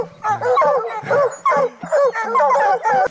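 Hunting dogs gathered at a bear den bark and yip excitedly, loud and close, in a rapid run of sharp, overlapping calls with whimpering edges.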